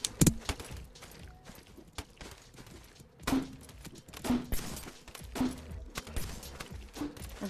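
Gunfire in the VR game Rec Room: several sharp shots in irregular bursts, fairly close, mixed with clattering movement and faint background activity.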